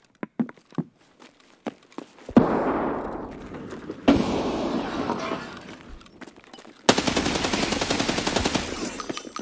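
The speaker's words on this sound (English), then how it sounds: "I shot at him." Gunfire in a first-person shooter game: a string of sharp single shots up close, then several louder sustained bursts with echoing tails, as if fired in an enclosed hallway.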